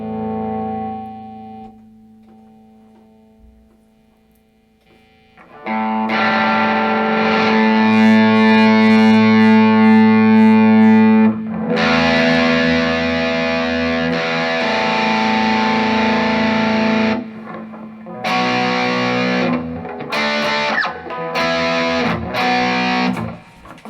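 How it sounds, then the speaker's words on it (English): A quiet held note, then loud distorted Epiphone Dot ES-335 electric guitar through a Rat distortion pedal, with sustained gritty chords and a run of choppy, stabbed chords at the end. "I've got the Rat distortion pedal programmed into this thing because I love the Rat"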